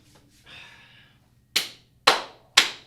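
Three sharp, loud hand claps in a steady rhythm, close by, following a brief faint rustle in an otherwise quiet room.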